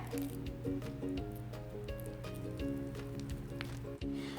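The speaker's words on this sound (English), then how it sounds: "Now you're gonna stir the butter up." Soft butter is stirred in a bowl for cookie dough, producing continuous close squishing and scraping with a few small knocks, fairly faint and steady, with no talking.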